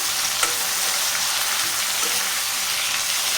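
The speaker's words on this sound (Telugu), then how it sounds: "ఇప్పుడు టమోటా వేసేస్తున్నా ఒకసారి బాగా కలిపేసుకున్నాం" Tomato being stirred into a pan of frying drumstick sambar, a steady close sizzle with soft scraping stirs and one brief knock, no talking.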